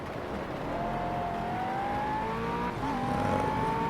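McLaren 12C GT3 race car at Monza in the Project Cars racing game, its engine note a steady loud drone climbing slowly in pitch through the gears, continuous and close with no talk.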